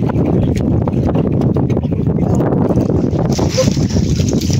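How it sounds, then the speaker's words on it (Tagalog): Strong, steady wind roars and buffets the microphone continuously, a loud low rumble with gusty fluctuations throughout. "nagsimula na naman ang hangin"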